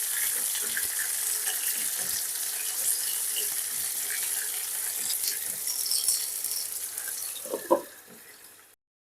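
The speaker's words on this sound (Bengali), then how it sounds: "এগুলোকে ভালো করে আমি ভেজে নেব।" Green banana and potato pieces, drained after soaking and washing, fry in hot oil in a pan, a steady hissing sizzle close up with a few louder spatters near the end before it cuts off.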